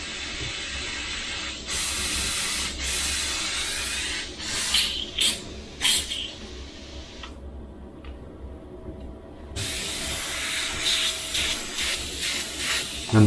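Airbrush spraying blue paint after a water flush, bursts of bright close hiss starting and stopping in short pulses, with a longer quiet pause in the middle before spraying resumes.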